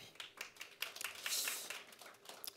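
An audience at a tech conference session applauds a presenter, a short spread of soft, somewhat distant hand claps.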